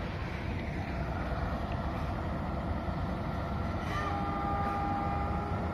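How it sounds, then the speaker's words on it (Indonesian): A steady low rumble of a passenger train overtaking a coal train, with wind buffeting the microphone and a faint squeal of wheels near the end. "Kereta api penumpang nyusul batubara, kereta api batubara ya"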